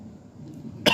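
A man gives a single short, sharp cough at the end of a quiet stretch of room tone.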